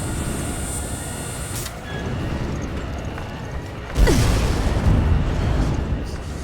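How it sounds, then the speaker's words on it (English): A heavy explosion bursts out midway through a Resident Evil Revelations game scene, a loud broadband blast followed by rumbling debris over a steady low mechanical drone. "The explosions have started."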